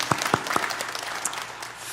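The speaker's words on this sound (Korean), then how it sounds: "감사와 찬양의 박수를 다시 한번 올려드렸으면 좋겠습니다" Congregation applause during a New Year's Day Sunday church service, a few sharp claps at the start giving way to a brief, moderately loud burst of clapping that thins out quickly.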